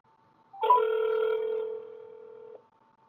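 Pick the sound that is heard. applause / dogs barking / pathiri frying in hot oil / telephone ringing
telephone ringing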